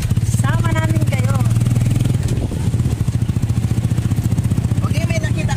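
A motorcycle engine drones steadily and fairly close on a road in Kalibo, Aklan, its low rumble running throughout while people talk over it.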